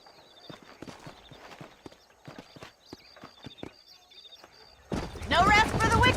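Horse hooves clip-clop at a steady trotting rhythm in the Red Dead Redemption video game, close and distinct, before a voice starts talking over the last part.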